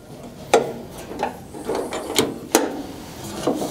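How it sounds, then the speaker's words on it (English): Metal clacks and a ratcheting catch come from the front door of a pellet stove as it is shut and latched, a series of sharp clicks and scrapes spread over a few seconds, close and fairly quiet. "First, I'll close the front door with the latching mechanism."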